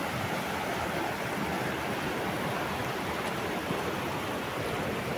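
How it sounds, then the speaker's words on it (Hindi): Rainwater rushes fast in a steady, broadband roar like a swollen stream, loud and continuous throughout with no voices. "यहाँ देखिए बारिश का पानी कितनी तेजी से आ रहा है"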